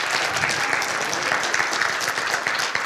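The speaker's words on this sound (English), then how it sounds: "You guys, give her a round of applause." A church congregation gives steady, close applause at a testimony service, with brisk clapping throughout and no voices over it.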